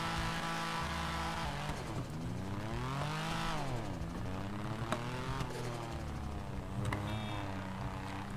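A car engine driving in a roleplay video game, revving continuously with pitch climbing and falling as it accelerates and eases off, loud and steady throughout with no talking.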